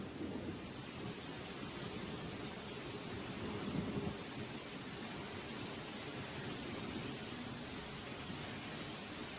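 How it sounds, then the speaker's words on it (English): Heavy tropical forest rain pours down steadily in a dense, continuous roar, with deep rumbling underneath and no voices throughout. "The rain starts pouring down, like a harsh welcome to the real world."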